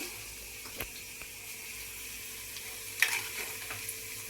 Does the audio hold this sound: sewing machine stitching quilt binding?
no